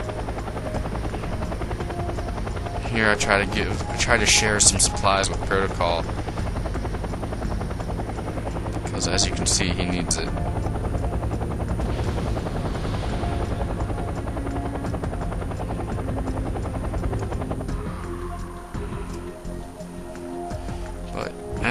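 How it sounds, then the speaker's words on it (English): Helicopter in Wargame: European Escalation, a steady rotor thrum and drone running throughout, with scattered higher chirps and effects early on; someone talks over it in places. "Here's my helicopter."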